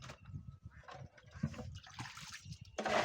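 Water sloshes and splashes as it is poured out from among freshly caught river crabs inside a boat, a faint irregular gurgling and spilling that grows louder toward the end.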